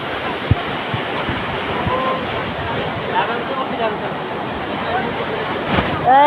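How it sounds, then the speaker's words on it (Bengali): Loud, steady rush of floodwater churning in at Tanguar Haor, Sunamganj, Bangladesh, pours continuously, broadband and roaring, with a few thumps and a voice briefly under the noise. "পানি ঢুকার কি শব্দ ভয়ানক শব্দ"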